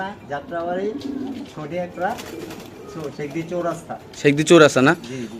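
White Lakha pigeons coo in soft, repeated low calls, with someone talking loudly over them nearly the whole time.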